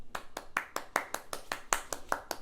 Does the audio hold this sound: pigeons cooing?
no